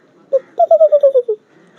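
A person imitates the call of a laughing dove with a soft, close series of about seven bubbling, descending coos. The first note stands apart, and the rest run in quick succession before fading.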